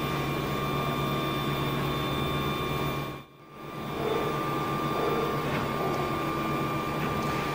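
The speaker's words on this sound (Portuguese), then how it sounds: "Então a impressora começou, está fazendo a primeira camada." A 3D Machine ONE 3D printer laying down its first layer, a constant close mechanical whir and fan hum with steady tones, briefly dipping quieter for a moment before resuming; no talk.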